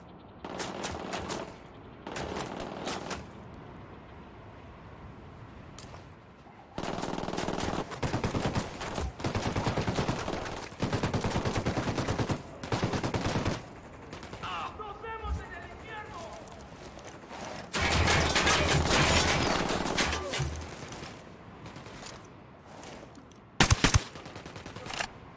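Squad gunfire in the Ghost Recon Wildlands video game, with long loud bursts of rapid automatic fire separated by quieter gaps, radio-style voices talking between volleys, and a final sharp burst near the end.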